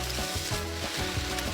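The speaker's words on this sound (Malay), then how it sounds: "Dan kemudian kita kacau dan kita masak dia sampai betul-betul masak." Rice vermicelli stir-fried with mustard greens, tomato and bean sprouts in a pan, a steady close sizzle with soft scraping stirs coming at irregular intervals, no voices.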